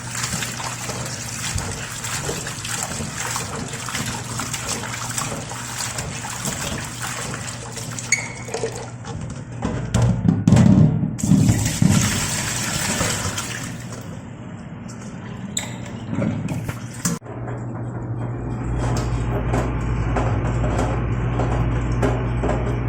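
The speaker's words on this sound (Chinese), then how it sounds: "所以我们用水把它冲一下" Salted eggplant being rinsed under running tap water, a steady splashing stream close by with louder gushing bursts midway as the pieces are handled, then a smoother flow toward the end.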